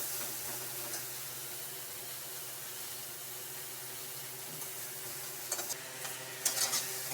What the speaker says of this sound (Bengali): এমনি হলুদ দিয়ে একটু ভেজে নেব আঁচটা একটু কমিয়ে দিচ্ছি